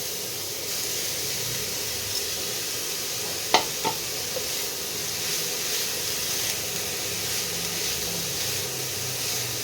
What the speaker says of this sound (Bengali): এই তেলের মধ্যেই আমি এবারে বিটগুলোকে দিয়ে দেবো, দিয়ে একটু ঘিতে ভাজা ভাজা করে নেব।